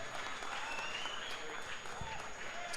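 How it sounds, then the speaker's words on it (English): Crowd applause at an MMA event after a fight, a steady wash of clapping that continues under an announcer's voice. "Big round of applause for the win Punisher, here."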